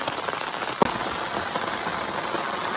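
Steady rain falls at night on a farm field during a crab-catching outing, a dense continuous patter close by with one brief sharp knock partway through.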